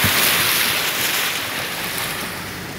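Steady rushing of floodwater flowing back into farm paddocks, a broad continuous wash with some wind buffeting, loud and unbroken throughout.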